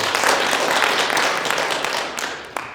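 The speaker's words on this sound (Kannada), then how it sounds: "ಚಪ್ಪಾಳೆ ಹೊಡಿಬೋದು." An audience claps throughout at a talk by a chief traffic warden, a dense, fairly loud wash of applause that slowly fades, ending with a single sharper clap.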